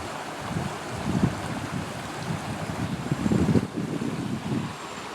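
The Toe River flows through a park in Newland, North Carolina, over lots of rocks, making a continuous rushing wash with low surging swells and some wind buffeting the microphone.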